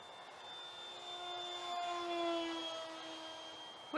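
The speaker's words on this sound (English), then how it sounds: "Look at that, you can fly a jet right here." A radio-controlled model jet aircraft flies overhead outdoors in cold weather, its steady high-pitched turbine whine holding a constant tone and slowly swelling louder then easing off, with no talking.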